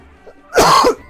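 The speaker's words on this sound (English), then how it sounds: "am so sorry for the coughs." A single harsh cough, short and close, with a throat-clearing rasp, breaking a quiet moment during a video game playthrough of Skies of Arcadia Legends.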